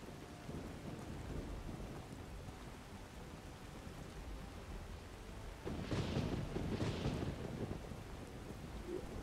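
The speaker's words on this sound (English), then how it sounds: "There's lightning and the thunder." Steady rain hisses throughout a Skyrim thunderstorm, and midway a deep rumble of thunder swells louder, rolling for a couple of seconds before easing back under the downpour.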